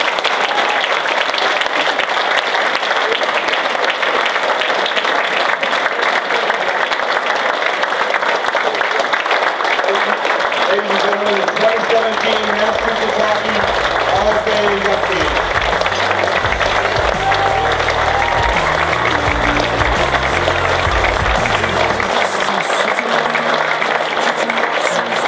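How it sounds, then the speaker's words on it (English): A large audience applauds loudly and steadily at a hockey hall of fame awards ceremony in Massachusetts, the clapping filling the room for the whole stretch, with cheers and crowd murmur mixed in and no clear talk. "Ladies and gentlemen, give these guys an round of applause."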